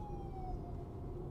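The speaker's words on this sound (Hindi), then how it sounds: "देखो एम्बुलेंस गई" Ambulance passing in Australian traffic, a faint wailing siren tone sliding downward in pitch over a low traffic rumble, heard briefly from a distance.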